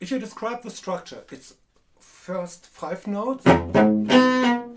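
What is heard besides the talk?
No everyday noises stand out.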